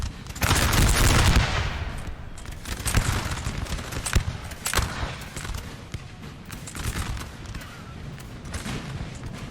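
Musket volleys crackle in the video game Napoleon Total War, coming in rippling bursts of overlapping shots over a constant battle din, with one heavy opening roar and sharper cracks scattered throughout.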